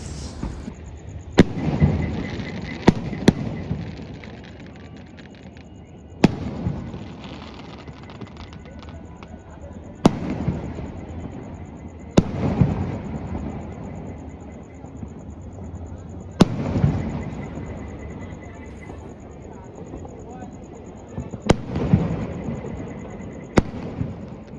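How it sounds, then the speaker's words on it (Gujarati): Firecrackers bursting at Somnath, sharp loud bangs scattered irregularly through the stretch, some in quick pairs, over a steady outdoor crowd murmur with distant chatter. "સોમનાથમાં ફૂટે છે ધબધબાથી ફટાકડા."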